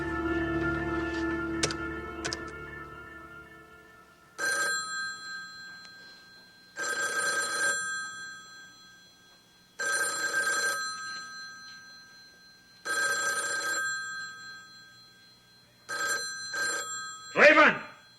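A telephone bell rings repeatedly in regular bursts with pauses between, clear and fairly loud, after a stretch of dialogue at the start.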